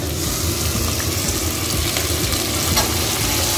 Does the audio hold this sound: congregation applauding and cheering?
no